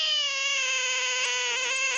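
A frog gives a single drawn-out, buzzy croak lasting about two seconds, loud and close with no other sound around it.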